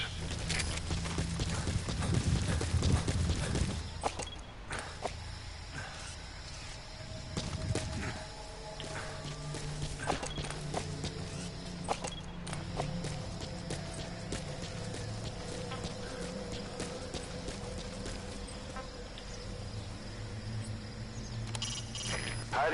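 Steady clip-clop of horse hooves at a trot in Metal Gear Solid V: The Phantom Pain, continuous through a busy game soundscape with music and effects layered over it.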